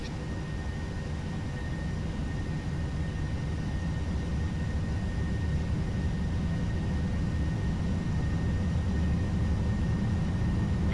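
A Boeing 737-800 rolls down the runway for takeoff from Milan in a flight simulator game, with a steady, loud engine roar and runway rumble holding constant throughout, without speech.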